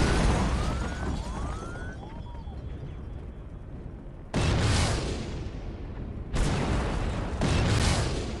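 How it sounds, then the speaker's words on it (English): A Maverick missile strike in a drone combat game: a quiet stretch with a rising whine, then two loud, sudden explosions a couple of seconds apart, each leaving a roaring, slowly fading rumble. "let's take him out with a Maverick"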